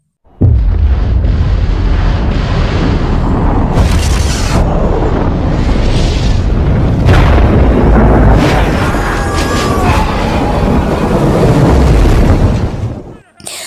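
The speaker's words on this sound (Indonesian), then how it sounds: "Pada saat Morris terjatuh, bom pun meledak dengan dahsyat." Massive bomb explosion in an action film, a loud sustained blast with rumbling debris and roaring fire that fills the whole stretch before cutting off near the end.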